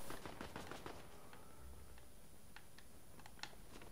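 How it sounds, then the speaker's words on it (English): Rapid gunfire in Fortnite Zero Build ranked play, a quick burst of shots early on followed by a few scattered cracks, faint and distant beneath a steady background hiss. "I don't know how close those bullets are flying."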